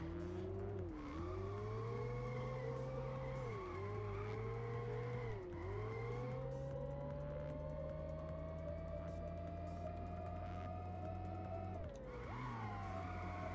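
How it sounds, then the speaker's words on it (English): An electric car drives in a video game, its steady whining tone rising and dipping as the speed changes, with occasional tire squeals, loud and continuous throughout. "I guess it's possible it's an electric car, judging by the sound"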